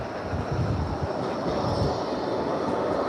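A Blackpool tram runs along its rails by the seafront, a loud, continuous close rumble of wheels on track that holds steady throughout with faint clicking and no speech.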